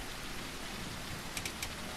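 Steady rain in the dinosaur survival game The Isle, a soft continuous hiss of falling water with a few faint, brief droplet ticks near the end.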